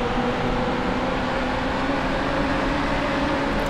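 Race car engine in NASCAR Heat Evolution, a dense, steady high-revving roar with a droning pitch that holds constant across the whole stretch, loud and unbroken with no voices over it.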